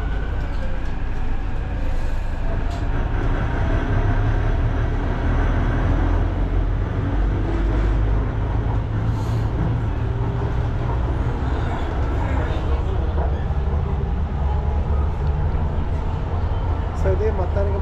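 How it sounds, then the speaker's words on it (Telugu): A Hyderabad Metro train on the move, heard from inside a carriage: a steady, loud rolling rumble with mechanical hum runs throughout, and people talk over it. "సో ఇది మొత్తానికి మన మెట్రో జర్నీ"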